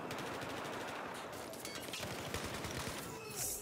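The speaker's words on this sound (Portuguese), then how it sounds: "eu atirei uns 500 tiros no cara aqui" Rapid automatic gunfire in Battlefield 4 rattles without a break, dense and loud, with bursts blending into one another.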